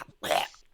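One brief, sharp sneeze, close and abrupt, with a short hiss that fades quickly into quiet.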